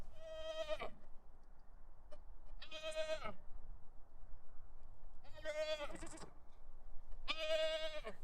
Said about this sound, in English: So the goats are doing really well.